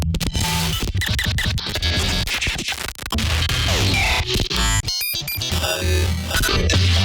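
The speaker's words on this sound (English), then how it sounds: "22 minutes, really heavily glitched audio" Heavily glitched audio from a spectral fracture effect rack: loud, dense stuttering bursts, scratchy fragments and abrupt cut-outs with sudden dropouts, continuous and chaotic throughout.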